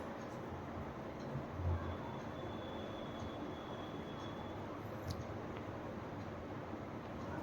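A four-car Mumbai monorail train stands at a station, giving off a faint, steady mechanical rumble and hum with a brief thin squeal partway through.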